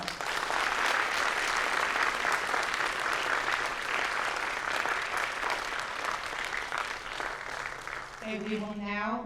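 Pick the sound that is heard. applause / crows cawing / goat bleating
applause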